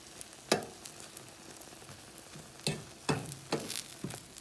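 Frittata eggs cook in a pan with a low, steady sizzle, broken by several sharp clinks and scrapes of a utensil against the pan at uneven intervals, close and fairly quiet.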